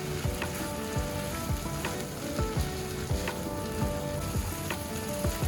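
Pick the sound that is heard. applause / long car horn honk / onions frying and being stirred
onions frying and being stirred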